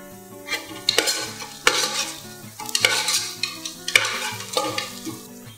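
Curry leaves and a split dried red chili fry with browned onions in a pan for a mutton gravy: repeated close stirring scrapes and a soft sizzle over steady background music.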